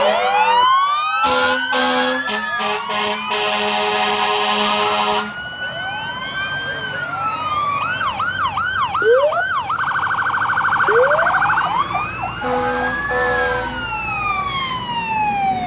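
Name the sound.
ambulance siren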